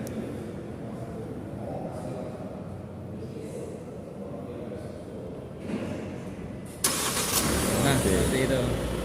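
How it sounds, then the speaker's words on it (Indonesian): A Hyundai Staria seven-seater's engine starts remotely from the locked van. It turns over and catches with a sudden rise in loud, steady running noise late on, after a stretch of constant background rumble with someone talking throughout. "tahan tombol hold ini sampai mobilnya hidup"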